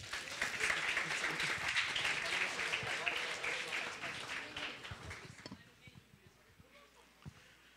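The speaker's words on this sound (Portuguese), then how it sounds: "Uma salva de palmas." A crowd applauds loudly for several seconds, then the clapping thins out and fades into a few scattered claps and room noise.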